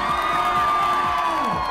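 A nightclub crowd in Ibiza cheers and whoops in one brief, loud swell of voices over a bed of club music, with no distinct speech.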